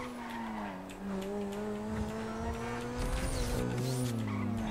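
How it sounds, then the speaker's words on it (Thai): A car in Grand Theft Auto V drives with a steady engine drone that rises and falls in pitch as it shifts, mixed with tire skidding and squeal, fairly loud and continuous with no talk. "ชอบเสียงรถคันนี้มากเลย"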